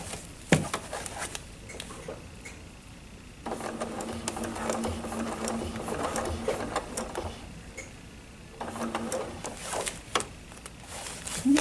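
A sewing machine stitches a table runner during free-motion ruler work, running in two steady, close whirring bursts with a low motor hum, separated by quieter pauses with light clicks.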